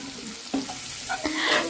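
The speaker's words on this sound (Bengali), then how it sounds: "পেঁয়াজ লঙ্কা দুটোই নরম হয়ে গেছে আর একটু ভাজা ভাজা করে নিচ্ছি" Onions and green chilies fry gently in a pan, a soft close sizzle with a few scraping stirs of a spatula, brief and without voices.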